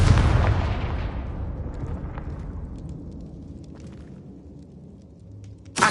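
A Confringo fire spell detonates in Hogwarts Legacy with a loud, booming blast that rolls away into a long fading rumble, followed by a sharp second burst at the very end.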